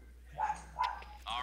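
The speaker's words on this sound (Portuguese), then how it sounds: "Ah não, mano, que cachorro irritante," A small pinscher dog yaps indoors in short sharp barks, a couple of clear yips in quick succession under a low steady background hum.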